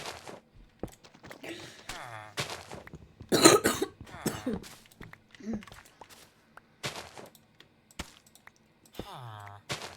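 Several harsh coughs break out amid quiet shuffling and a few soft knocks, with one loud burst of coughing near the middle.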